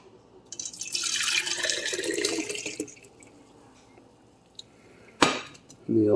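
Tea poured through an old strainer into a cup, a bright splashing stream of liquid for about two seconds with light clinks of the strainer and cup, then a quiet pause and a couple of sharp metallic clinks near the end.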